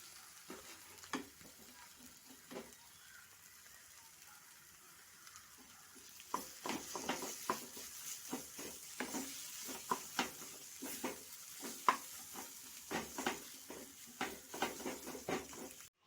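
Potato tossed into a pan and stir-fried, quiet background sizzle at first, then a run of brisk, rhythmic scraping and clacking stirs against the pan, close but fairly soft.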